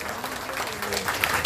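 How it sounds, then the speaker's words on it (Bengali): At a Trinamool Congress party workers' meeting on an open ground, a crowd claps steadily for a guest, a short burst of applause with faint voices underneath. "একটা জোরে হাততালি হোক ওনার জন্য"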